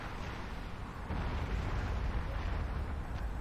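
Artillery fire in the strategy game Supreme Commander 2 rumbles on as a steady, dense wash of explosions that grows heavier partway through, with no talk.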